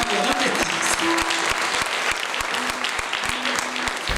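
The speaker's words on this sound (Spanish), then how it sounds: "Un fuerte aplauso." Studio audience claps warmly through a folk-music broadcast segment, dense steady applause with a few sharp individual claps standing out, while voices murmur and speak underneath.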